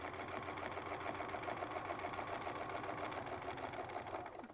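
Sewing machine running steadily and loudly while stitching with a Westalee Spin E Fex quilting ruler, a continuous rapid mechanical whir that holds without pause and tapers slightly at the end.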